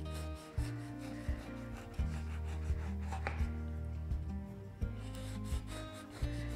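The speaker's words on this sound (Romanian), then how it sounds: "Sper că s-a răcit destul și că va ieși frumos la tăiat." A knife saws back and forth through a cooled two-colour Nutella cozonac sweet bread, giving close, rhythmic rasping strokes over a steady low background.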